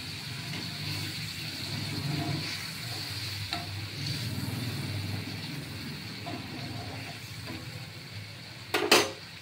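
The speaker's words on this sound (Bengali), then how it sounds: "এবার আমি এই মাছটা দিয়ে দিলাম" Pomfret fish frying in a pan of hot oil after tomato paste has gone in, giving a steady close sizzle with light stirring, then a brief louder hiss near the end as the fish is added.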